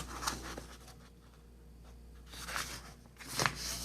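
Paper is creased and folded for an origami watering can, with soft rustles and crisp crinkles close by in short bursts between quiet pauses.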